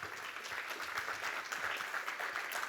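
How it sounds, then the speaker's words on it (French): Audience members at a French startup pitch event applaud the jury, a fairly faint, dense patter of many hands clapping continuously for a few seconds with no voices over it. "On peut les applaudir, s'il vous plaît."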